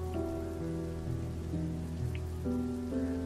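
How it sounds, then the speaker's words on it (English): Steady rain falls in the survival game Oxygen: First Breath, a constant soft wash of drops beneath sustained musical tones, with no talking. "All right, looks like it is raining."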